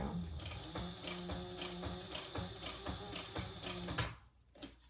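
A sewing machine runs slowly through several thick layers of a fabric eyeglass case, giving a steady run of close, even mechanical stitch clicks that stops near the end.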